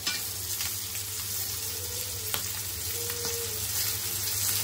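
Pomfret fish fries in oil in a pan with a steady, moderate sizzle, a constant hiss and a few faint clicks, close and with no talking.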